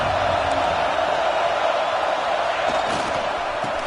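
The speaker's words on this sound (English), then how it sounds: "Listen to the crowd energy here in the early going." A dense stadium crowd at a college football game roars steadily throughout, a loud continuous wash of noise with no breaks.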